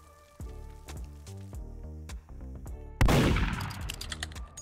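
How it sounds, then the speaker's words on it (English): Rapid gunfire in the Murder Mystery 2 video game, a sharp loud burst of shots near the end over game music, with earlier pulsing game sounds. "They're shooting at you."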